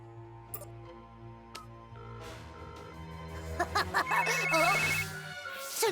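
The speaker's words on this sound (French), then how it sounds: "C'est le téléphone d'urgence de la gardienne." An emergency telephone rings in an animated scene, its repeated electronic trill rising over a musical score, with brief chiming accents and louder swells toward the end.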